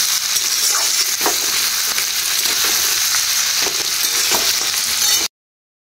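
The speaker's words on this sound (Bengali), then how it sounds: "আমি এই যে পেঁয়াজ গরম তেলে দিয়ে দিয়েছি, পেঁয়াজ আর কাঁচা লঙ্কা, ধনিয়া পাতা, জিরা, ফোড়ন।" Onion, green chili, coriander leaves and cumin fry in hot oil for a Bengali meat curry, giving a steady loud sizzle with faint scraping stirs, close up, then cutting off abruptly into silence.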